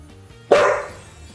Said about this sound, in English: Hey, dogs, be quiet.